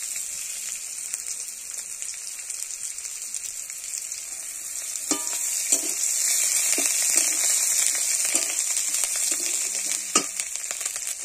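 Garlic fries in a pan, a steady bright sizzle with crackling throughout, and a few soft stirring knocks and scrapes partway through.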